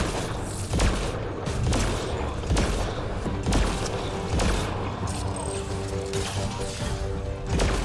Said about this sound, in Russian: Кто вообще стреляет?